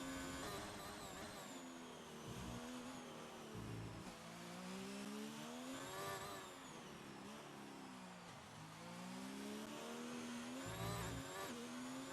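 Formula One car in the F1 2019 video game on an on-board lap at Abu Dhabi, engine screaming continuously with pitch rising through the gears and dropping on downshifts, loud and close throughout.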